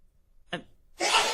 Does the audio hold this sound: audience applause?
no